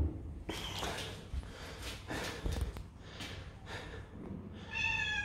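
A cat meows repeatedly in an apartment building stairwell in Russia, a series of close, drawn-out cries with breathy, snorting sounds between them.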